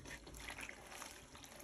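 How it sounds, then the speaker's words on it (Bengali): Vegetables, aubergine and potatoes, are washed in water in a home kitchen, a faint soft splashing and trickle that runs briefly and quietly with no talk. "সবজিগুলো এখন ধোয়া হইতেছে।"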